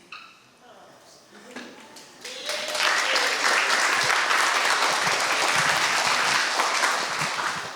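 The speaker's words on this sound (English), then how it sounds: "another round of applause to all of our debaters" Applause for youth debaters at a mayor's literacy event starts quietly and then swells into full, steady clapping from the audience, holding strong through the rest.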